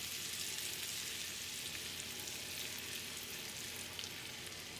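Peaches and sugar sizzle and fry in melted butter in a pan for a peach cobbler, a steady, close hiss running throughout with no talking.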